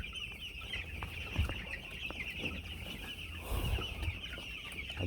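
Chickens on a village poultry farm cluck in short repeated bursts against a steady background hum and chirping, a few louder clucks standing out nearby.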